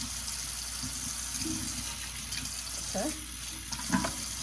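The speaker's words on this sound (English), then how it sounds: "And we're just gonna rinse it out" Tap water runs steadily over hair being rinsed out, a continuous splashing hiss with small bursts and trickles, while a voice briefly speaks over it.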